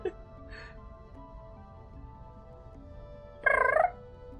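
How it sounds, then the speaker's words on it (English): A short bird chirp sounds indoors as a brief, bright trill, fairly loud and close, following a quiet stretch with only faint room noise. "Did you guys hear the chirp?"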